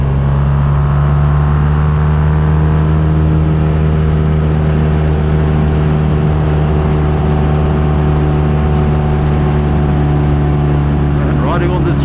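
A Triumph T140V motorcycle is ridden along a road, its engine holding a loud, steady low drone close to the microphone alongside wind noise, with no change in pace.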